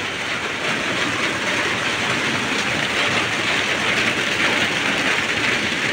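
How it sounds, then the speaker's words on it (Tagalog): Heavy rain pours down steadily during flooding by a river, a dense, loud, unbroken wash of noise with no pauses and no talk. "Ayaw tumigil yung ulan."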